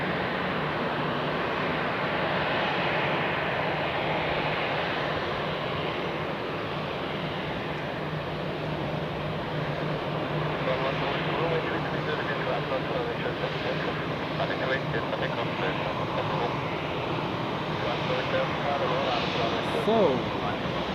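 Steady broadband roar of airliners at Zurich Airport during a busy Sunday rush hour, a continuous distant jet engine rumble that holds fairly even throughout, with a faint voice talking underneath.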